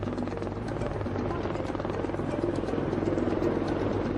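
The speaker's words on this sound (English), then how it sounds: "A helicopter is the only option to get him to a hospital." A helicopter comes in for a landing in the Himalaya to airlift an injured person, its rotor thumping steadily and loud at close range for the whole stretch.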